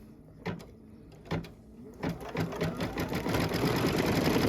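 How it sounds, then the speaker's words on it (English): A home sewing machine stitches a double stitch on a Kimberbell Blossom pin cushion, opening with a few separate needle thumps before settling into a steady, close mechanical whir that grows louder. "it's going to stitch that double stitch again"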